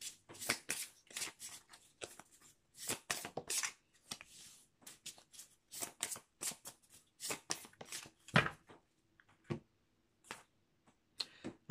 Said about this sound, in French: je vais prendre des cartes dans l'oracle du Teen Angel pour voir un peu de quoi on va parler